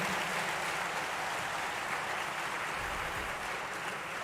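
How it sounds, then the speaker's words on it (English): An audience gives loud, continuous applause to welcome Dr. S. Jaishankar, Minister of External Affairs, at the Shaastra 2026 inauguration; thick, uniform clapping fills the hall without pause or speech. "Please join me with a great round of applause to invite our Honorable Dr. Jaishankar"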